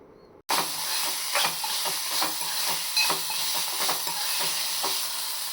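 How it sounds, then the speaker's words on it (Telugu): Chicken seasoned with salt and pepper powder is stirred in a hot pan after a brief silence, a close, steady sizzle broken by regular scraping strokes of the spoon. "మిరియాల పొడి ఇలా బాగా తిప్పుకోవాలి."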